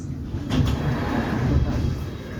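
A London Underground Piccadilly line train pulls into Barons Court station, a low rumbling roar of wheels and motors building on the platform, with a couple of brief metallic clunks near the start.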